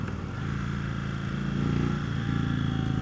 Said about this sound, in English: Let's get the RPMs up a little bit here.